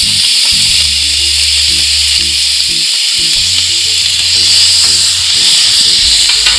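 Tomatoes added to hot oil in a pan for a leftover-rice vegetable biryani, sizzling and hissing loudly and steadily throughout, close up, with a low hum underneath.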